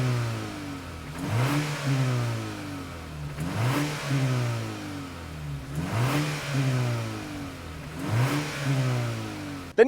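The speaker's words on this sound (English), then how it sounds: "Listen to that engine." A 2024 Lincoln Corsair engine revs repeatedly during a drag race, four sharp rising sweeps in a steady cycle, each climbing in pitch and dropping back, loud and close.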